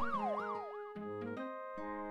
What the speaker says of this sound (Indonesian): dengan terdengar suara sirine